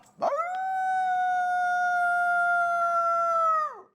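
A man imitates a dog's howl, one loud, close, sustained tonal wail that rises, holds steady for several seconds, then drops off.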